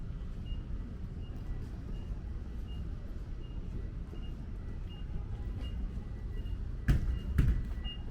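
A UPS delivery truck's reversing alarm beeps steadily at a regular pace on Fort Hamilton Parkway, Brooklyn, faint and a little distant, over a low rumble of traffic.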